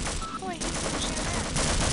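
Gunfire in the video game Half-Life, a dense rattling burst of shots running continuously through the moment with a voice briefly heard underneath.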